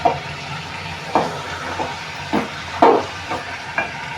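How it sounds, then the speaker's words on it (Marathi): Water poured into a hot pan while cooking a no-onion, no-garlic offering dish, giving a string of short steamy hisses and bursts that come in irregular splashes, loud and close, with no talk. "आता आपण याच्यामध्ये पाणी घालून घेऊया शिजायला"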